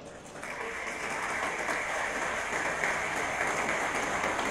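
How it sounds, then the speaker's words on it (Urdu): Graduates and guests at a university convocation ceremony give a sustained round of applause for their parents, steady dense clapping filling the hall at moderate distance. "زوردار تالیاں بجائیں"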